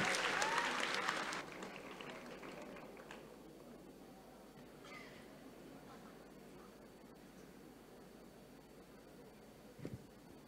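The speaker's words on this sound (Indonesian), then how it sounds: "Sekali lagi berikan tepuk tangan meriah untuk Bapak Dino Patijalal." In a conference main hall, a loud burst of audience applause lasts about a second and a half, then dies away into quiet room noise with a faint knock near the end.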